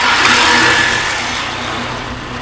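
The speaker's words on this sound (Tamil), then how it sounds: "இன்னும் ஓடுது அந்த ஆக்டிவா." Steady drone of an old first-version Honda Activa scooter engine running at a village in the Western Ghats foothills near Coimbatore, loud and close, holding a continuous even tone that eases slightly.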